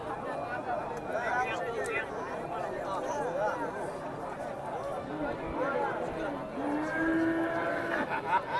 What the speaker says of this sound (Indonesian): Ya, ada sapi yang ngamuk di sana.